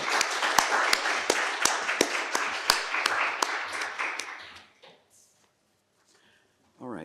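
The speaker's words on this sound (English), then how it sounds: "Let's give her a round of applause." An academic session audience applauding a speaker: sparse, moderately loud claps with a few sharp individual hits over a softer patter, fading out after about five seconds into near quiet with a brief voice at the end.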